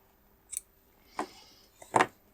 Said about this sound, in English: now I can trim this bit off, and I can trim these bits off